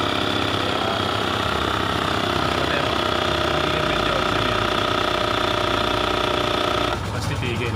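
Portable air compressor inflating a motorcycle tire, a loud continuous rattling motor drone with a steady buzzing rhythm that shifts near the end.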